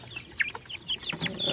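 Nearly 8-week-old chickens cluck in a farm pen, with several short, nearby calls overlapping in a busy, irregular chatter over low background noise.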